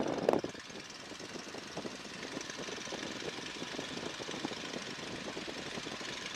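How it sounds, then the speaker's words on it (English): A 1942 Boeing Stearman biplane's engine drones steadily and loudly from inside the open cockpit in flight, a continuous rough roar with a brief knock near the start. "Let me check the engine"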